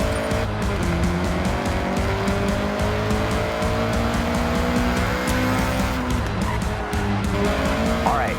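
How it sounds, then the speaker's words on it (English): Honda CRX in Forza Horizon accelerating hard, a steady loud engine drone with rising harmonic tones and occasional tire squeal, continuous throughout. "All right, get the CRX up to speed."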